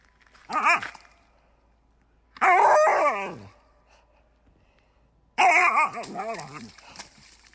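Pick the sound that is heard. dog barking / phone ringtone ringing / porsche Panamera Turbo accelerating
dog barking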